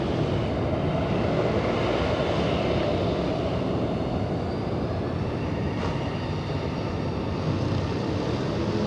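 A large Turkish Airlines airliner arrives at Los Angeles International Airport after a 13-hour flight from Istanbul. Its jet engines make a loud, steady, broadband roar that holds constant throughout, with no voices.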